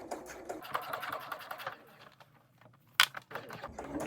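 A sewing machine runs in short quick bursts of rapid stitching as it closes the lining of a small pouch near the edge of a fold, pauses, then gives a sharp click before stitching resumes quietly.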